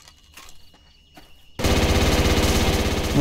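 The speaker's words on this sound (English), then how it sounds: "I'm getting shot at." Gunfire in the video game Neotokyo: after a quiet stretch with a few faint sounds, a loud sustained burst of rapid automatic fire starts suddenly and continues to the end.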